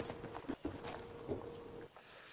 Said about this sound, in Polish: Słyszę kroki gdzieś tutaj.